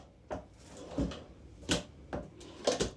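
A soft-close drawer in a fifth-wheel RV slides open and shut several times in quick succession, with soft thuds and rumbling runners, close by and moderately loud.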